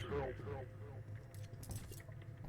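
Keys picked up in the video game CS:GO, a short metallic jingle and clink heard faintly over background game noise, with no talking.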